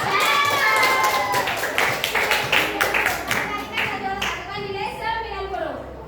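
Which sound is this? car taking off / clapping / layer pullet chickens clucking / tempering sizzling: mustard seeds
clapping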